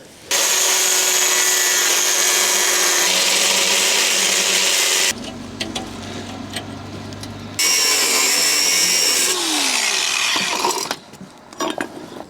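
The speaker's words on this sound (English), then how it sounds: "what I've got to try and do is cut this old clamp off using a grinder" A grinder cuts through an old pipe clamp on a 986 Porsche Boxster S, a loud, continuous whine that changes pitch as the load shifts, eases into a lower rougher tone midway, then surges again before cutting off abruptly.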